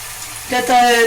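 Potato pakora batter hits hot oil and bursts into a bright sizzle halfway through, a second spoonful adding to the crackling frying that carries on to the end.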